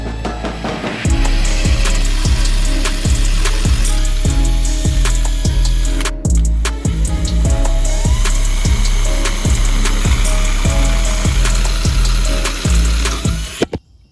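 A drill bit bores out the starter holes in a Collins clutch adapter, giving a loud continuous grinding whir with a steady rhythmic chatter, briefly cutting out and then resuming before stopping at the end.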